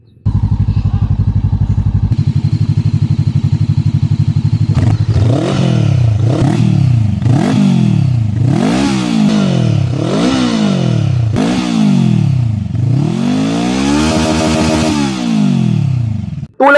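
A Voge CU525 motorcycle engine idles loudly and close, then revs repeatedly in rising and falling surges, each burst of throttle climbing and dropping back, with a steady rumble between the revs.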